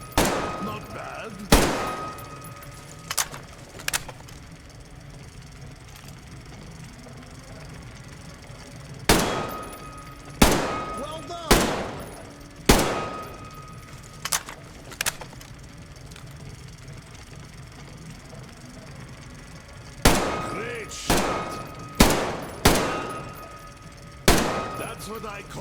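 Gunfire in the shooter game Metro Exodus: loud, sharp single shots and short volleys in irregular clusters over a low, steady background rumble.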